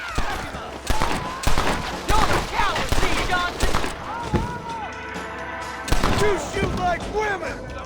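Sharp gunshots ring out in a Red Dead Redemption gunfight, a series of loud cracks at uneven intervals over game sounds, with a voice talking between shots.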